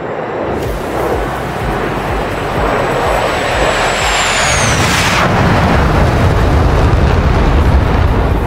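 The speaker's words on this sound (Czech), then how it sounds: "Jedná se o letoun JAS 39C Gripen, který bude pro nás tady dnes pilotovat" A JAS 39C Gripen jet roars past at a virtual airshow, a loud, continuous broadband rush with a rising whine that swells into a sharp burst midway and then stays as a heavy sustained roar.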